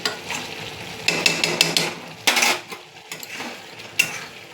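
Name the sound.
ghee added to prawn egg curry, sizzling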